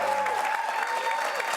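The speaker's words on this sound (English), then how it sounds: "So first of all, a round of applause for that." An audience applauds at a political event, a brief burst of dense, steady clapping heard on its own.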